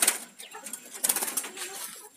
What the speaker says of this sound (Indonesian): Itu ya burung kutut saya, ada 6 ekor.